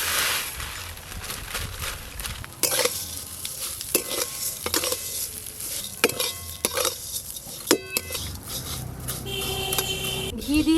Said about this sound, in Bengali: এবার সিমাইগুলো ঘিয়েতে ভালো করে ভেজে নেব।